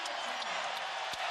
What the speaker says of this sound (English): And Kulichov will get an ovation from this crowd.